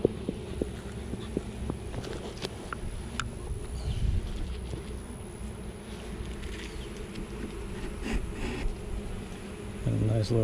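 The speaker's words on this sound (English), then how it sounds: "A bunch of nurse bees in this hive right now." Honey bees drone in a steady, dense buzz from an open beehive during an afternoon inspection, close and continuous, with light handling clicks and a brief tonal hum near the end.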